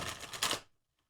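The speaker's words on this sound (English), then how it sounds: "Okay, one last shuffle." Tarot cards get a quick final shuffle with a short, dense papery riffle lasting about half a second. The sound is close and fairly soft, then drops off abruptly into silence.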